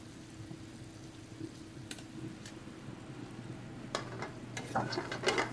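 Onions frying quietly in a pan, a soft low sizzle with a few sharper crackles and stirring clicks building toward the end.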